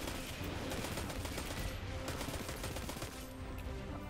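Dense gunfire from a shooter battle in the video game Destiny 2, a steady loud barrage of overlapping shots and bursts running throughout without a break.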